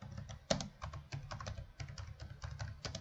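Fast clacking of a computer keyboard as code is typed, irregular close-up keystrokes with one sharper key hit early on, no talking.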